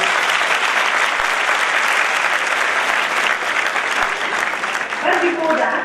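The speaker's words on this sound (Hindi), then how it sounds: "तो एक बार जोरदार तालियां अपने खुद के लिए।" Students at a school commerce event give themselves a loud round of applause, continuous crowd clapping for several seconds before a voice starts speaking at the end.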